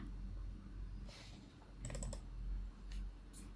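A computer mouse gives faint, sharp clicks: a single click, then a quick cluster of several, followed by two more spaced clicks over a low room hum, with no talking.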